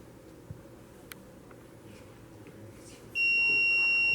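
A quiet background hum, then a loud, steady electronic beep from a GoTo telescope mount finishing its slew sounds for about a second near the end.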